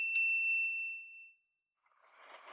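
A single bright bicycle bell rings once close by, its metallic tone ringing on and slowly fading to silence, followed by faint rustling noise.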